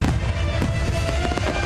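Fireworks burst continuously at Independence Day celebrations, a loud dense barrage of crackling pops and booms with sharp individual cracks over a rumbling wash.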